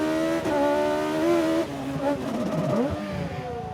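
Race car at the Race of Champions in Barbados accelerating hard out of a tight right-hander, a loud buzzing engine note rising in pitch through quick gear changes, with tires squealing briefly.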